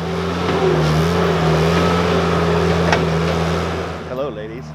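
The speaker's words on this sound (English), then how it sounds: "How do you stop a guy in a skid loader?" A skid loader engine holds a steady, loud drone with a sustained tone while the machine tears up a yard beside a chicken coop. It swells slightly near the middle and eases off at the end, and no one speaks.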